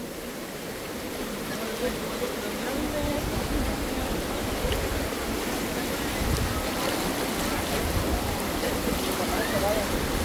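River water flowing during a crossing on the way to the community of El Maguey: a steady, broad rushing wash that holds level throughout, close and fairly loud, with a voice faintly heard at times.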